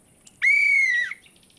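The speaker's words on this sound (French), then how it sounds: "Mon sifflet." A cartoon whistle gives one clear, steady toot of about three-quarters of a second, loud and close, with quiet surroundings before and after.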